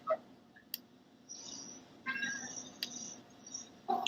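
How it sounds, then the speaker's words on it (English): A cat gives several short, faint meows and chirps indoors, spaced apart over quiet background noise, with no talking. "Is that a cat?"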